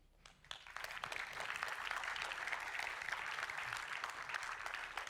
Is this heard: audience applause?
yes